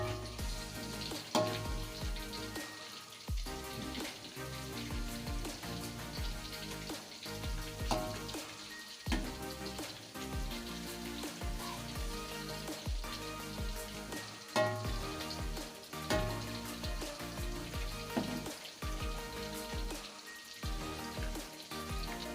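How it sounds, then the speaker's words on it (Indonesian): Tofu sizzling and frying in hot oil, a steady crackling hiss with scattered pops, moderately close and continuous with no talking. "Saat proses pemasakan tahu, jangan lupa dibalikkan tahunya agar dia masak secara menyeluruh"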